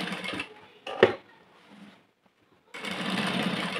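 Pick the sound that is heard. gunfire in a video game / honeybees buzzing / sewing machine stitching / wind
sewing machine stitching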